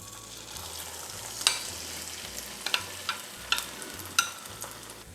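Herb frittata mixture (kuku sabzi) sizzles steadily in an oiled pan over medium heat, a continuous close frying hiss broken by a few sharp spattering pops, with no talking.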